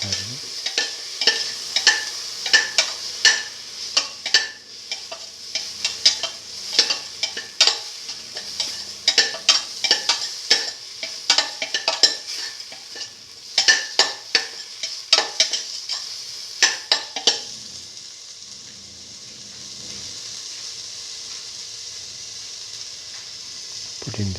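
Split pigeon peas and fenugreek leaves are stirred in a hot pan, a sizzling base punctuated by repeated sharp scraping and clinking strokes for most of the stretch, then a softer steady sizzle alone.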